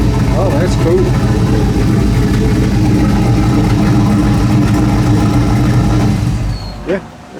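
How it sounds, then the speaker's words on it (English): A turbocharged LS V8 idles at about 860 RPM, a steady, loud, low rumble that carries on evenly for most of the stretch before dropping away near the end, with people talking over it. "It's idling at 860"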